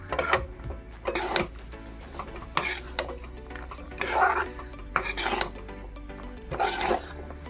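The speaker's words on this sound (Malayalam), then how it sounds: "നന്നായിട്ടൊന്ന് വഴറ്റിയെടുക്കാം. എല്ലാം കൂടെ മിക്സ് ചെയ്തെടുക്കാം." A spatula scrapes and stirs cooked big beans (vanpayar) sautéing in a pan, a rhythmic series of about seven rasping strokes roughly a second apart, close and steady over a low background hum.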